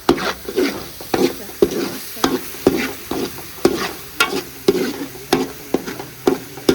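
Spices sizzle and fry in a pan while being stirred, with sharp regular scraping strokes roughly every half second over a steady background crackle, close and clear with no talking.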